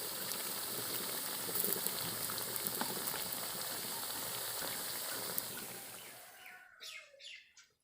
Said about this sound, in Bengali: তেলটা গরম হয়ে গেছে, তেলের মধ্যে আমি খাবারগুলো দিয়ে দেবো।